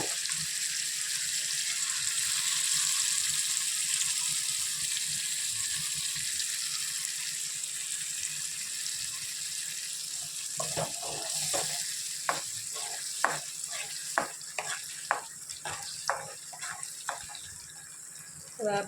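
Tomato gravy for chole sizzles steadily in a pan, followed by a run of sharp clinks and scrapes from stirring, while a voice talks over the cooking.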